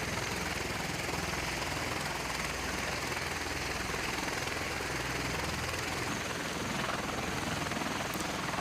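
A military helicopter during a US and Philippine Marines combat training exercise, its steady rotor and engine roar filling the whole clip at constant loudness, with no talk over it.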